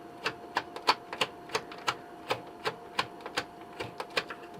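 Screws being worked out of an abused Panasonic FS-A1 MSX2 computer: a close series of about a dozen sharp clicks and ticks in a fairly steady rhythm, with no voices.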